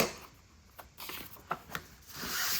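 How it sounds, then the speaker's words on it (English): An awl is pushed through punched holes in a stack of paper for a Japanese stab-bound notebook, making faint rubbing and a few short scratchy scrapes against quiet background hiss. "now I have my awl and can push eventual bits of paper that are stuck in the holes."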